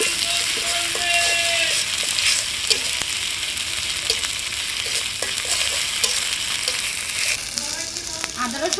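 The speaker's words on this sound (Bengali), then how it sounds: "আদা রসুন তেলে ভেজে নিচ্ছে" Ginger garlic paste fries in hot oil with bay leaves, cloves, cinnamon and cardamom, a loud close sizzle broken by repeated spatula scrapes and clinks against the pan.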